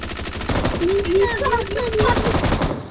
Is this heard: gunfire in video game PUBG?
yes